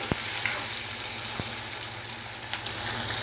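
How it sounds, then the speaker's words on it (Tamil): Small onions sauté in hot oil for a tamarind curry, giving a steady close sizzle and frying crackle with a few sharp pops from the pan. "இது வந்து வெங்காயம் வந்து நல்லா வதங்கணும்."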